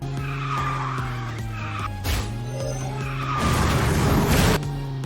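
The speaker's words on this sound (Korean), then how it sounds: "드리프트 너무 어려워" A kart drifting in the KartRider racing game, with a sustained engine drone and a long tire skid that swells into a louder screeching scrape, fairly close and without talk.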